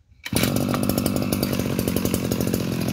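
A Shindaiwa S35 chainsaw pulls to a start after a brief quiet moment, then runs loud and close in a steady rough two-stroke buzz with fast regular firing pulses.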